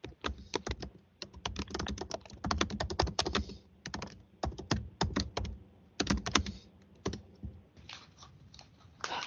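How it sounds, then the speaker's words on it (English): Rapid typing on a computer keyboard during a San Francisco Sunshine Ordinance complaint committee hearing, close and steady, keys clattering in bursts with brief pauses between runs. "just typing on my notes"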